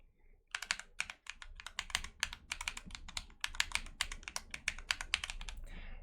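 Rapid plastic button clicks from a fighting game gamepad, tapped in quick typing-like bursts; close, crisp and steady for several seconds with no talking.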